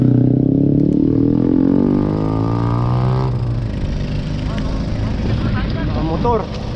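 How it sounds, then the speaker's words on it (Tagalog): Motorcycles pass on a road during a ride toward Tagaytay, a loud close engine drone whose pitch sweeps downward as one goes by, followed by rougher engine and road noise. "Mga motor."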